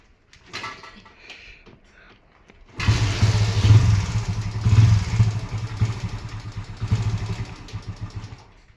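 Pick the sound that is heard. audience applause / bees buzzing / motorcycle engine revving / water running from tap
motorcycle engine revving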